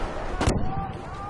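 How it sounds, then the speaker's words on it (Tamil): A single sharp bomb blast bursts in Battlefield 5, a short loud crack over a continuous background rumble, with a voice talking around it. "ஓ மை காட், வெடிகுண்டு போடுறானுங்க."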